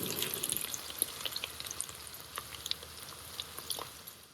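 Dried red chillies and green chillies fry in hot oil in a pan, a steady close sizzle with small crackles and pops throughout and no voices.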